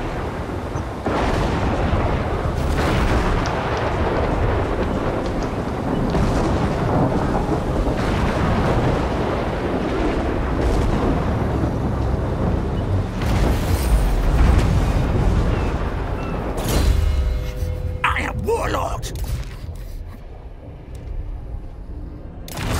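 Thunderstorms in a video game roll and rumble as a continuous, heavy, booming wash for about twenty seconds, with loud crashes midway before the storm tapers off.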